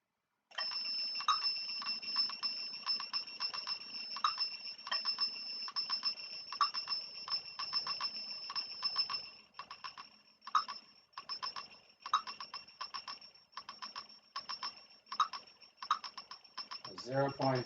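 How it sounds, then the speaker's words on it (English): An electronic device beeps repeatedly with steady high-pitched tones during an experiment setup, the rhythmic alarm pulses running for most of the clip, briefly pausing and then resuming, with faint background noise. "it's going to beep because it's going to complain"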